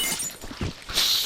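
Candles being smashed up inside the horror-house level of the cleanup game Viscera Cleanup Detail, giving a few crunchy breaking impacts and a brighter shattering burst near the end, fairly close and with no voice over it.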